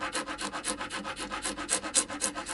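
Coarse abrasive rubbed back and forth during setup work on a 1963–64 Gibson Melody Maker guitar, a steady run of rapid, even sanding strokes, close and continuous with no voices.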